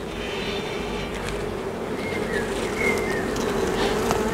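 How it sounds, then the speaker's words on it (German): Honey bees buzz steadily at an open hive in April, a dense continuous hum with occasional closer passing drones and no talk. "Hier ist auf jeden Fall eine Biene, die signalisiert."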